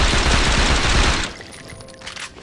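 Gunfire rattles in the video game Saints Row 2, a dense automatic burst loud and close for over a second before cutting off into quieter game ambience.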